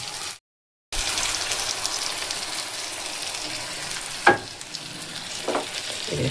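Chicken kanti with cashew paste sizzling and frying in a pan while being stirred, a steady close crackle broken by a short silence near the start and a few scraping clinks of the spoon.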